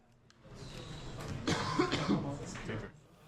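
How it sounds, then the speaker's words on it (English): A single cough from an audience member in a venue during a Magic: The Gathering Legacy match, a short burst rising over a murmur of background chatter. "Someone just coughed."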